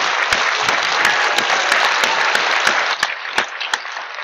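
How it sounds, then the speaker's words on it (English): A crowd claps steadily in a burst of applause that holds even, then thins into scattered claps near the end. "a round of applause."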